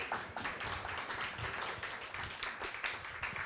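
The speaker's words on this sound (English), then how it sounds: "let's give them applause" Audience at a comics lecture clapping together, a dense, steady burst of applause from a fairly near crowd with scattered sharper claps, no voices over it.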